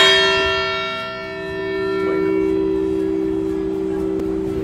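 Bells of a downtown church bell tower ringing out a tune, a loud, sustained metallic tone with long ringing overtones, struck again partway through and swelling as it decays, with no talk over it.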